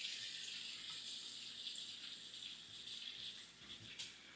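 Water pours steadily from a can or jug onto houseplants during a watering round, a faint continuous trickling splash that tapers off near the end.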